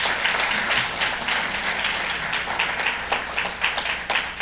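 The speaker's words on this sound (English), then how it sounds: "let's give our staff just a round of applause, please, for their work." A crowd applauds steadily at a school district State of Schools address, a dense, sustained wash of many hands clapping at once, fairly loud throughout.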